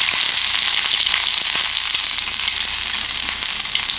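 Cumin, crushed pepper and a little ginger frying in a spoonful of ghee, a steady close sizzle with faint stirring ticks throughout.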